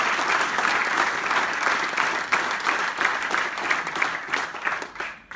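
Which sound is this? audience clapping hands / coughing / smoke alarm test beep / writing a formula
audience clapping hands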